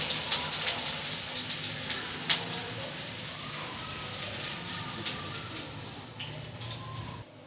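Onions sizzle in hot oil with dried curry leaves, giving a close, steady crackle of fine popping that sounds much like rain on a surface and fades slightly toward the end.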